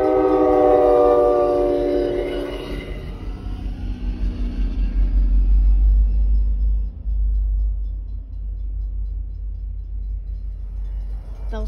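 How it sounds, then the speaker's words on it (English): CT Rail train passing an activated railroad crossing in Windsor Locks, Connecticut, with a loud horn blast at first, then a heavy, close rumble of wheels and cars rolling by. "Train's right there, right next to the crossing."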